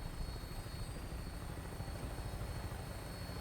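A Fallout 4 vertibird helicopter lifts off with a steady, dense rotor and engine drone that stays constant and close throughout, without speech.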